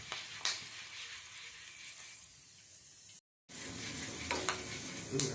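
Steady crackling sizzle of sorghum grains frying in hot oil, close by, with a short gap of silence midway and occasional sharper pops.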